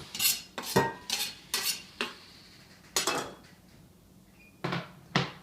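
A knife clinks and scrapes against a bowl as herbs are stirred into dry ingredients for peppered focaccia, several sharp taps in irregular bursts with quiet gaps between, close and alone.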